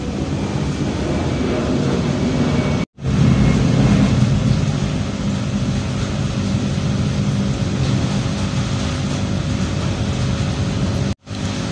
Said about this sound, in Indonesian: Tunggu suara pesawatnya lewat dulu ya.